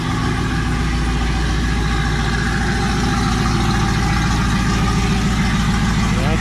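A Chevrolet Silverado Z71 with a custom stainless steel exhaust and Borla Atak muffler idles close by, a loud, steady low rumble with a rhythmic throb, and a voice faintly talks over it.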